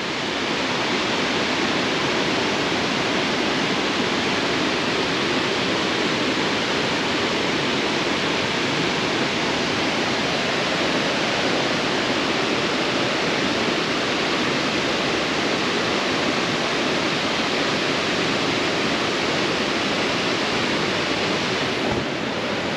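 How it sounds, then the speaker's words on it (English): Waterfalls at Walensee roar in a loud, unbroken wash of noise that fills the whole stretch and stays constant from start to finish, close by, with no speech. "about the waterfalls."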